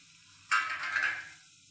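Capsicum, peas and beans drop into a hot pan and burst into a loud, bright sizzle that fades within about a second, heard up close with no talking.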